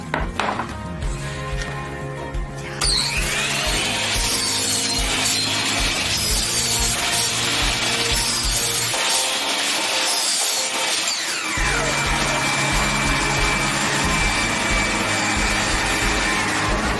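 A power saw with a dust extraction channel runs loudly and steadily, its harsh whine and grinding continuing throughout with a vacuum-like roar underneath.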